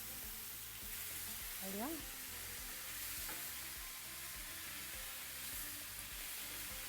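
Steak sizzling in a hot pan, a dense, steady, close frying hiss that carries throughout, with a brief voice over the sizzle.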